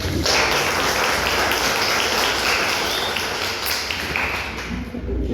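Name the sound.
audience applause for a guest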